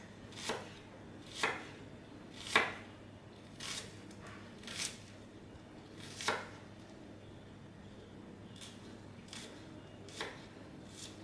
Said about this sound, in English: So I'm gonna cut the onions to like slices, like thin slices.